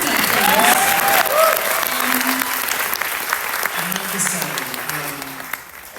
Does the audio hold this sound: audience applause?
yes